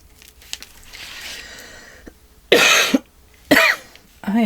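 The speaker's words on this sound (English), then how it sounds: "I am so sorry about my cough." A person coughs indoors, two loud harsh coughing fits close to the microphone following quieter rustling and handling sounds, with a third cough starting at the end.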